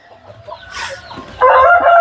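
Poultry calling on a farm in Machilipatnam, with quiet clucks early on followed by a loud, sustained crow-like call near the end.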